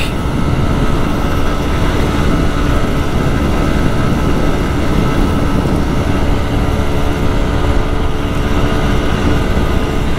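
Small motorcycle engine while riding in fourth gear, a loud, constant engine drone mixed with heavy wind rush, steady throughout with no pauses.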